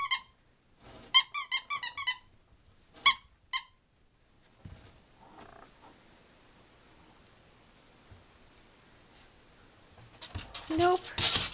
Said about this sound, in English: Oh, the squeaker.